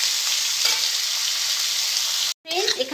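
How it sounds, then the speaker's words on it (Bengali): Potatoes frying in oil in a pan for a Bengali dish, a steady close sizzle that drops out briefly near the end, then resumes with a few clinks. "আলুটা আমি ভালো করে লাল করে ভেজে নেব"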